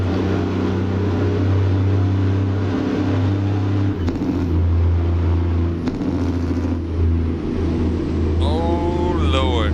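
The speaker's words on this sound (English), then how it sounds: "that sound of the engine" Truck engine idling and running in American Truck Simulator, a loud, steady low drone with shifts in pitch, and a brief rising whine near the end.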